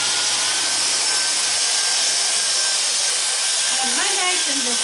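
A Dyson DC34 handheld vacuum runs on its max setting with a loud, steady high-pitched whine, close and continuous, its pitch wavering briefly near the end.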